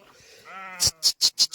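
A sheep bleats in a drawn-out, wavering cry, followed by four short rhythmic bursts of a higher, breathy sound, fairly close, while the flock is taken to a large lake for washing.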